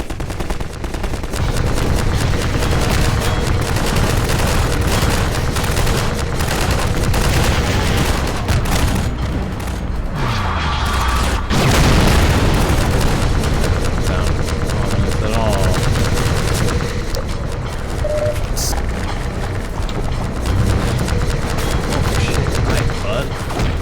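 Gunfire in a video game rattles almost without pause in dense rapid bursts, loud and close, with a heavier boom near the middle and someone talking over it.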